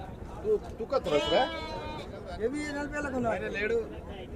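Rams bleat at a busy weekly livestock market. Two or three wavering bleats sound close by, with a crowd talking and murmuring behind them.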